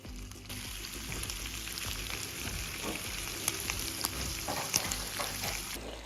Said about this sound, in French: Et on va faire rissoler nos tranches de poitrine fumée.